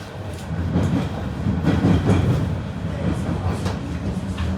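A Paris Métro train rolling into Nation station, a steady loud rumble of wheels and carriages with rhythmic clatter on the rails, continuous throughout.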